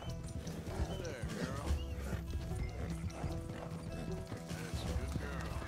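A horse in the video game Red Dead Redemption 2 makes clip-clop hoof sounds and an occasional whinny amid mechanical clicks and game ambience, with a person talking over it.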